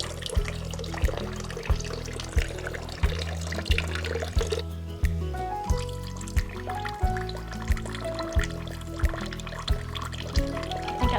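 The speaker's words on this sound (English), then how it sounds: "I personally kind of like a little trickle." Water trickles from a bamboo garden fountain kit, falling in quiet, evenly spaced drips and splashes that repeat in a steady rhythm, close and soft.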